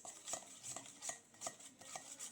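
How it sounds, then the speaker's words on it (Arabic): Crushed garlic mixed with oil and salt in a jar is stirred by a spoon, giving a quiet, regular rhythm of scraping clinks, about eight strokes close by. "الثوم طحناه ونديره في البقال وندير له الزيت وزيدو ثاني الملح ونخلطو"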